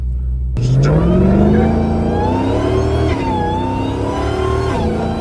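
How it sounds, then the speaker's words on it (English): A loud Dodge Hellcat engine revs hard and climbs in pitch, dropping briefly at each gear change before pulling up again, close and continuous. "Every time you change the gear, you hear that say skr skr"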